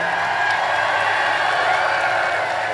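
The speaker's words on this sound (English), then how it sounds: "Imagine cheering for that." A large audience at a Donald Trump rally in Pennsylvania keeps up a steady, loud cheering roar. The wash of voices stays even and unbroken for a few seconds, with no clear speech above it.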